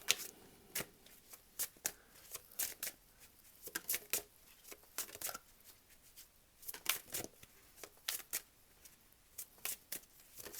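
A tarot deck being shuffled by hand, close up: irregular bursts of crisp card flicks and riffles that come in quick clusters with brief pauses, with no voice.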